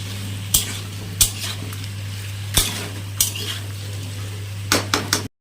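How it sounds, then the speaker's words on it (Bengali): Pumpkin with salt and turmeric is stirred in a pan over a soft sizzle, a utensil knocking sharply against the metal about eight times at irregular intervals, with a steady low hum underneath. "এখন এটা ভালো করে নাড়াচাড়া করে ঢাকা দিয়ে দেব"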